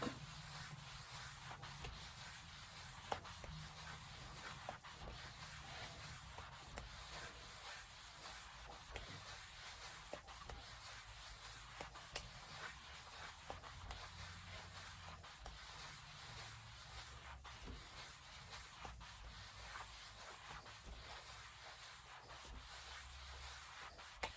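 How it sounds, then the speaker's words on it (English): Bowling ball surface being scuffed by hand with a sanding pad, a steady close rasping rub that runs continuously without pauses, with no talking. "You don't need to hit these bowling balls hard, but a nice little scuff will do the trick"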